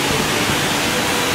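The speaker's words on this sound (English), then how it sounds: "The waterfall itself is pretty beautiful. Just listen to it, it's really beautiful." Multnomah Falls pours in a dense, steady broadband roar of falling water, loud and close, with no other sound over it.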